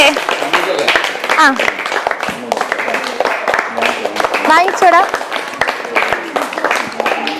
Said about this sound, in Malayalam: എല്ലാരും ക്ലാപ്പ് ചെയ്ത് നല്ല ക്ലാപ്പ് ചെയ്തേ